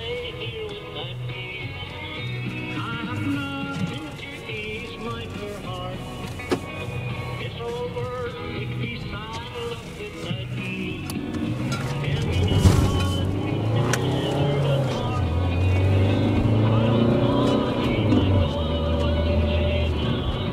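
Citroen Grand C4 Picasso VTR+ wheels spinning on icy ground, with a strained engine revving and tyre noise that swell toward the end, heard from inside the car.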